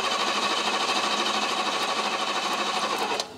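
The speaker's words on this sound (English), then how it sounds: "just going to keep cranking until we see fuel at the fuel filter at least" Barn-find BMW engine cranking over on the starter while waiting for fuel, a steady fast mechanical churn filling the whole stretch before cutting off abruptly near the end, with no firing or talk.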